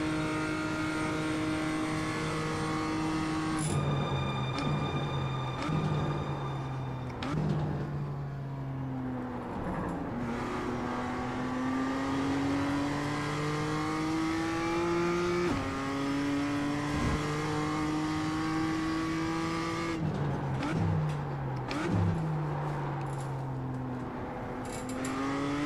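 A BMW M2 Cup race car at Daytona revs hard through the gears, with the engine note rising and dropping at each shift and braking point across a flying lap, loud and close throughout.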